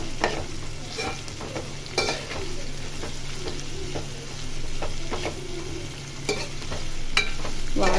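Ginger paste frying in a pan for a mixed vegetable curry, with a steady close sizzle and intermittent scraping stirs, no talking.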